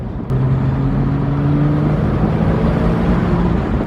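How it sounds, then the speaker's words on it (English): A loud, steady engine drone with a low humming tone from a Porsche Boxster S cruising in sport mode, constant road noise throughout and no voices. "This car is amazing, and it's driving great."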